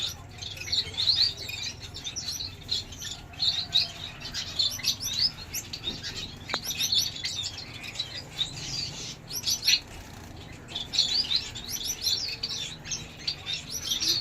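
Long-tailed birds kept in pairs chirp steadily, with a dense, continuous mix of bright tweets and calls from several birds at close range, along with occasional wing flutters.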